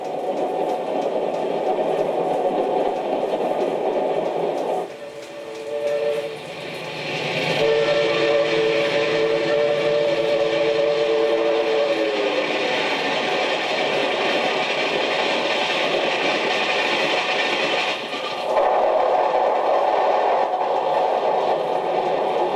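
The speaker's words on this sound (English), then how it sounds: "It arrives in Turin every morning at 8 a.m. Train Treno del Sole, the train of the sun." The Treno del Sole train arrives in Turin in 1963, its steam whistle sounding in long sustained tones over a steady rumble of rolling railway cars.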